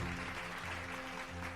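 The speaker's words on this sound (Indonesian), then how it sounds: "Kita beri tepuk tangan sekali lagi untuk top 3 Big Sista." Audience applause at the BigSista Summit 2024 entrepreneurship event, honoring the top 3 Big Sista: a steady, dense wash of clapping that stays fairly faint and even throughout, with no break.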